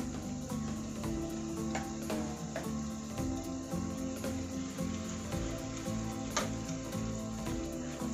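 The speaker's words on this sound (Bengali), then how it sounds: "কাঁচা লঙ্কা আর হলুদ দিয়ে 30 সেকেন্ডস মতো ভেজে নিলাম" Green chili and turmeric frying in a pan, a soft steady sizzle with faint crackles running throughout at low level, with no voices.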